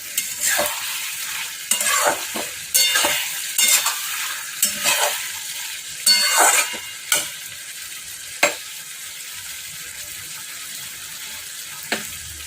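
A small-fish curry being stirred in a frying pan, heard as a series of sizzling bursts and scraping strokes close by, fading to a low quiet hiss in the last few seconds.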